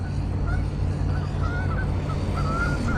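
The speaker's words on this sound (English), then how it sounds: "Uh-oh, here come the geese." Geese honk repeatedly at a distance outdoors on a hill, a series of nasal calls over steady low rumble and wind, where a 1/6 scale Redcat Racing Shredder RC monster truggy is being run.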